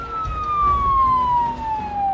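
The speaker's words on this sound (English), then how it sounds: "Sirens are supposed to be loud, so sad to say this is kind of functioning as intended." Police siren in the Project Zomboid video game wails loudly and steadily, a single falling tone sweeping down over two seconds with low rumble beneath.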